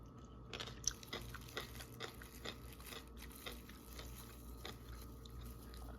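Faint, close crunching and chewing of cucumber, a series of irregular crisp bites and munches over a quiet background.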